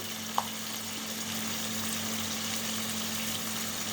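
Steady, even sizzling of chicken liver frying in hot oil with salt and turmeric, a constant hiss with one small click near the start.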